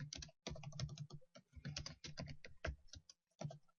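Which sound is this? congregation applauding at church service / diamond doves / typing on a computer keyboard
typing on a computer keyboard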